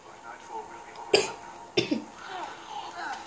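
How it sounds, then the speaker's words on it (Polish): Two sharp coughs from a person a second or so apart, close and fairly loud, the second followed by a smaller rasp, over quiet background game sounds. "Przepraszam za ten kaszel."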